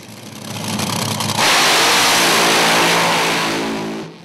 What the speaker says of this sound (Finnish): Tuhannet hevosvoimat, kun ne jyrisee ja tavallaan tanner tömisee